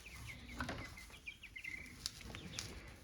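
Four small chickens kept in a garage make soft, high peeping and chirping calls in short repeated bursts, with faint rustling and wing flutters, all quiet and close.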